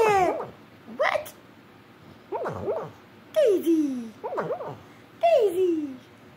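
A dog barks and yelps in short bursts, some with whiny, falling pitch, repeated about five times up close.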